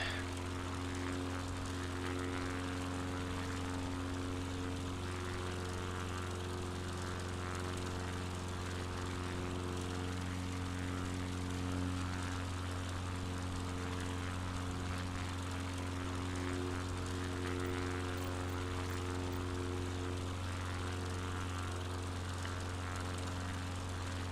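Steady propeller aircraft engine drone from Microsoft Flight Simulator 2020, a constant even hum with strong harmonic tones running unbroken and fairly loud throughout, with no talking.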